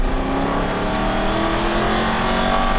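An Aston Martin V8 Vantage accelerates hard on a racetrack, its engine droning loud and steady close by throughout.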